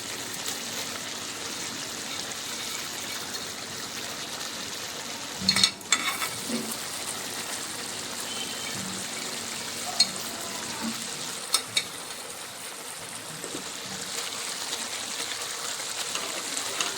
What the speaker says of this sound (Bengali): এর মধ্যে এবার আমি ভেজে রাখা মাছটা দিয়ে দেব